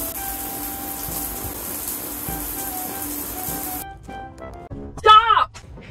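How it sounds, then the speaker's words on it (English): Indoor shower running with a steady broadband hiss of falling water, which stops abruptly partway through, after which a voice calls out loudly over a quieter room. "Get out of the shower!"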